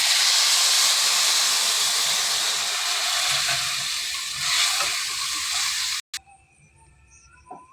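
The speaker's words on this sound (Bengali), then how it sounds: "এইবারে আমি দেবো গরম জল।" Hot water poured into a pan of lightly fried rice sets off a loud, continuous steamy hiss and sizzle that slowly fades, then cuts off abruptly, leaving quiet background and faint clinks.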